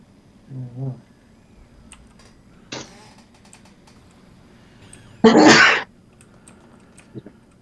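A single sharp sneeze bursts out nearby amid a quiet room with sparse keyboard clicks, preceded by a brief voiced sound and a short noisy burst.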